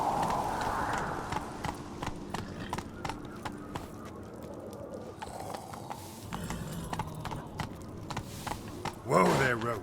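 Hooves of Geralt's horse Roach in The Witcher 3 video game, a steady trotting clip-clop close by with a brief snort or whinny near the end, while someone talks over it.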